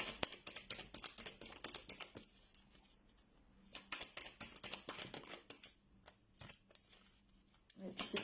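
Tarot cards are shuffled and drawn by hand, making rapid riffling clicks and soft flicking bursts that come in uneven flurries with short pauses, close and fairly quiet, with a voice talking over them.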